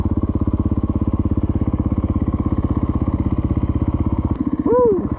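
A 2024 Gas Gas EC450F dirt bike thumps along with a steady, rapid single-cylinder beat while climbing small steps, then gives a brief sharp rev near the end, loud and close.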